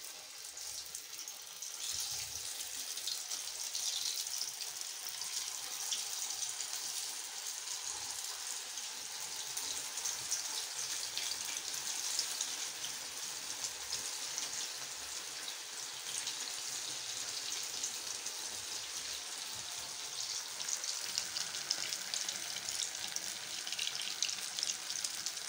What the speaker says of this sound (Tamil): நம்ம ரெடி பண்ணி வச்ச கட்லட் பீஸஸை எண்ணெயில் போட்டு பொரிச்சிடலாம்.